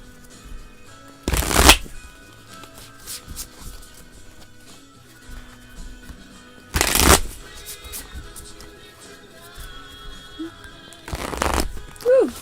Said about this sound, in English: Bad shuffle.